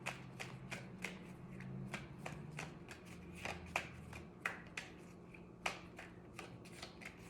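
Tarot cards are shuffled close up in a steady run of soft, crisp riffles and taps, with a low hum underneath early on and sharper card slaps spaced through the second half.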